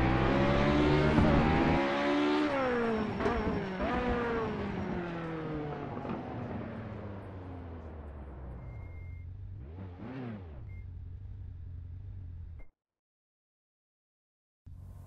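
Ariel Atom 500 V8 engine in the racing game Project CARS, revving loudly with rising and falling gear-change sweeps, a sharp pitch swoop near the end, then cutting to silence.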